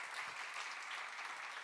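Congregation applause at a Korean church Bible academy lecture, a steady wash of many hands clapping, fairly faint and distant, with no speech over it.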